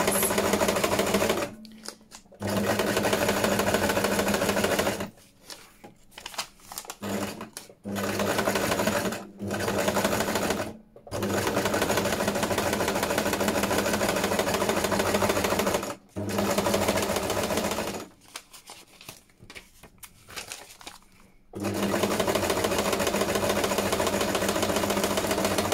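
Sewing machine stitching vellum envelopes, a close, fast mechanical whirring that runs in long stretches broken by several short stops and restarts.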